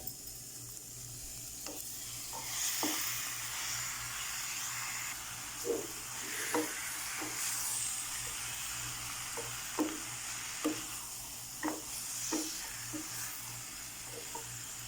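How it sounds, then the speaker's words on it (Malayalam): Chicken fries in masala in a pan for an easy chicken curry, with a steady low sizzle and repeated scraping stir strokes at an irregular rhythm, heard up close with no talking. "ഇനി ചിക്കൻ ഇടാം"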